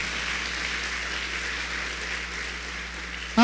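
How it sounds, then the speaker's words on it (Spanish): A church congregation applauding at a morning service, a dense, steady wash of clapping throughout with no individual claps standing out. "Ese aplauso es muy fuerte para el Señor."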